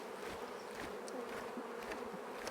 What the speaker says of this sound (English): we're going to shake these bees off onto the top bars here